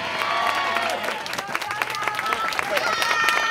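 A crowd at a small spring music festival on Daikon Island gives a warm round of applause, dense clapping with scattered cheers and sharp individual claps, while a voice talks over the audience.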